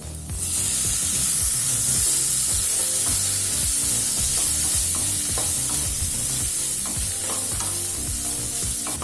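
Tomato frying in a pan while mint chutney without coconut is made: a loud, steady sizzle throughout, broken by repeated scraping and stirring strokes, with no talk.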